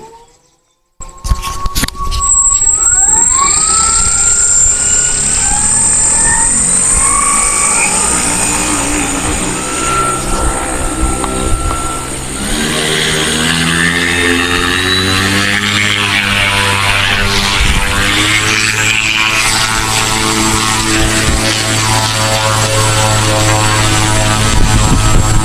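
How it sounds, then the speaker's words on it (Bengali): A large homemade RC plane's electric motor and propeller run up to about half throttle, starting with a rising whine and then holding a loud, steady, close buzzing roar with a high motor tone for over twenty seconds. "আমরা মোটরটি একটু থ্রটল বাড়িয়ে দিয়ে দেখি।"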